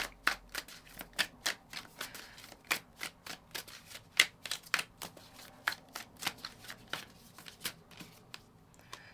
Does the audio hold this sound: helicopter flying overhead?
no